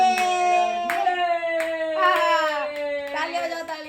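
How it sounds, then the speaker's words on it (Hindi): A family at home claps for the father on Father's Day, with quick scattered claps under loud overlapping voices and children shouting or singing. "तालियां बजाओ, तालियां"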